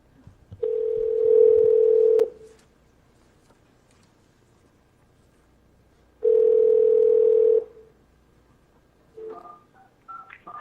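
Telephone tones while calling in to a county Health and Human Services board meeting: two steady, loud electronic beeps, each about a second and a half, separated by silence, followed by faint brief tones.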